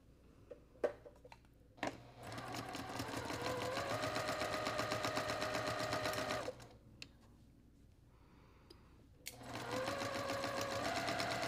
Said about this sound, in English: I'm gonna sew down here, press, and then sew the other way.